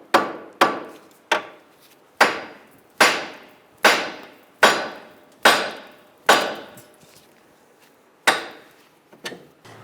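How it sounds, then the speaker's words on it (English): Hammer tapping a tie rod end out on a 2014-2018 Subaru Forester front end: about a dozen sharp metallic strikes at a steady pace, close and loud, each ringing briefly before the next. "now we're just going to tap this down"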